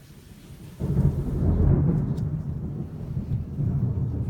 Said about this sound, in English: And there comes the thunder.